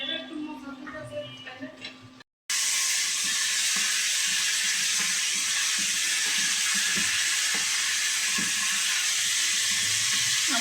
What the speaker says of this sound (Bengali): এবার আমরা এটা ভাজা ভাজা টাইপের করবো হালকা।